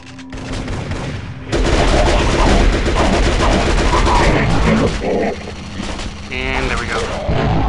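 Minigun firing in the video game Turok: Rage Wars, a loud, sustained rattling burst of rapid shots lasting several seconds, starting after a brief opening shot, amid dense game effects.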